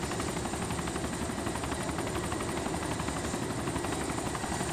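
Helicopter in the video game DayZ, its rotor thumping in a fast, even beat over a loud engine whine, steady and close with no talking.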